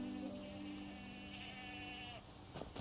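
Goats bleat a couple of times over a steady droning game background in Where Winds Meet, the cries fairly quiet and wavering.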